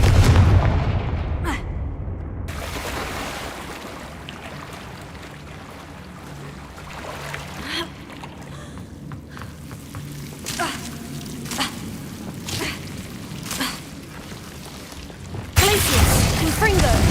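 Explosive Confringo spell blasts in the Hogwarts Legacy video game, several sharp booms and cracks scattered over steady game ambience, with a spoken spell call and a louder burst at the end.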